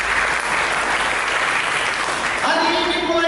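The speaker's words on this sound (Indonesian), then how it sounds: "Berikan tepuk tangan bagi Tuhan." A church congregation applauds for God during a sermon, loud sustained clapping filling the room, with music and a voice coming in over it near the end.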